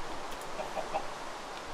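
A chicken in the video game Minecraft gives a few faint, short clucks over a steady background hum.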